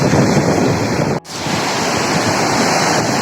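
Waves wash over a flooded beach and swirl against someone's feet, making a loud, continuous rushing roar with wind buffeting the microphone and one brief dropout.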